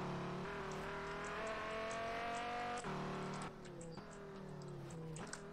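In the racing game Auto Club Revolution, a Dodge Viper's engine climbs and drops through shifts with brief tire squeal, loud and continuous and close up.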